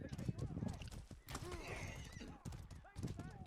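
Horses in a competitive video game match give off rapid clip-clop hooves and sharp neighs, close and busy, while excited commentators talk over the action throughout.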